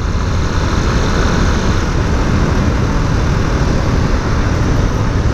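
A truck engine in São Paulo traffic: a dense, steady roar of engine and road noise, loud and close throughout with no pauses.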